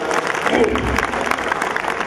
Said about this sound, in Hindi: बहुत जोरदार तालियां इस बच्ची के लिए, बहुत जोरदार तालियां